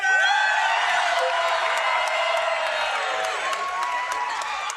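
An esports tournament crowd at a Minecraft speedrunning world championship gives a loud, sustained cheer with whoops and scattered claps. The roar stays full throughout and eases slightly toward the end.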